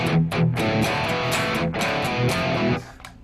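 A heavily distorted electric guitar riff in drop D tuning chugs through sustained power chords with brief choppy breaks, loud and dense, ending in a short fade.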